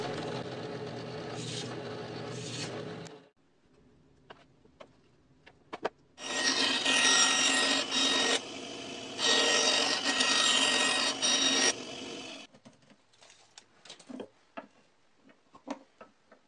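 A drill bores extra holes in the housing of a room air purifier, with two loud whining bursts of several seconds each separated by quieter handling clicks and taps.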